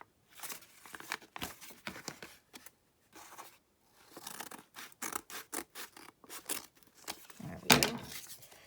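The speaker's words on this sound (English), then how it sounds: "let's just rip that thing off of there, or maybe even just cut it off" Scissors snipping a paper flap off a handmade junk journal, a run of crisp, close cuts and small paper rustles in irregular bursts, fairly quiet, ending with a brief louder crinkle.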